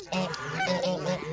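A domesticated goose honks repeatedly in a run of loud, close, nasal calls with short gaps between them, with no other sounds.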